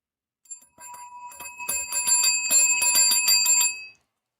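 A bell is struck repeatedly in a quick, irregular run of bright metallic rings that build up and overlap into a dense shimmering ringing, then stop abruptly.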